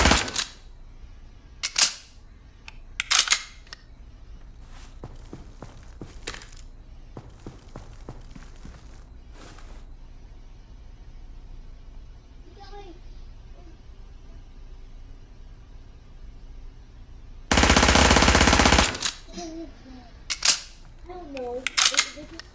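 An MP7 submachine gun fires sharp shots in short, spaced groups during a recoil test, alongside a long loud blast of broadband noise and brief talking between the shots.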